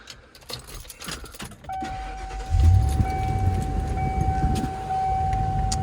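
A 2002 Ford E250 conversion van is started up: keys jangle briefly, the engine cranks and catches, then settles into a steady idle with the air-conditioning fan running and a constant whine, close up with no talk.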